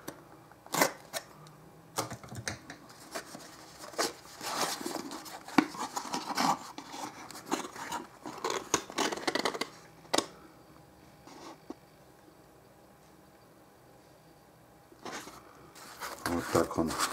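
A sealed cardboard box holding a MantisTek USB tester is opened by hand, producing close bursts of cardboard rustling, scraping, tapping and clicky handling noises, with quieter pauses between them.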